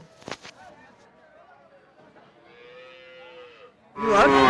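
A cow moos in a long, wavering call at a crowded livestock market in Sirajganj, Bangladesh, with scattered voices and market bustle around it, then a loud burst of noise at the end.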